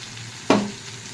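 A single sharp sizzle as greens go into a hot pan of frying potato, pumpkin and aubergine with spinach, green chillies and spices, flaring loudly then settling into a softer hiss.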